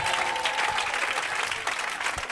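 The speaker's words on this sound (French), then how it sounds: "Acclame Jésus." A congregation at an evangelical church service applauds in dense, continuous clapping that stays loud and even for the whole short stretch.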